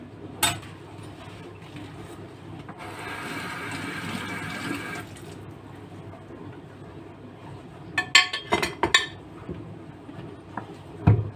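Dishes washed by hand at a kitchen sink, with a burst of running tap water in the middle and scattered close clinks and knocks of plates and cutlery near the end.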